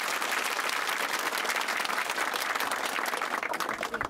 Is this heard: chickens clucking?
no